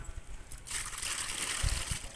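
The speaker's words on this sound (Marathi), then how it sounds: "आता ताई पाणी घालत आहे झाडांना" Water is poured over flowering garden plants in front of a house. A faint, soft trickle and splash swells after a quiet start and continues steadily to the end.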